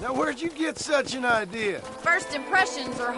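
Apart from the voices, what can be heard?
None of the usual background noises is heard.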